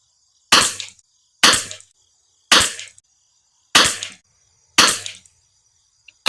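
Five sharp rifle shots ring out, fired from a rifle fitted with an L3I heavy barrel tuner, evenly spaced about a second apart, each a loud crack with a short decaying echo, over a faint steady background tone.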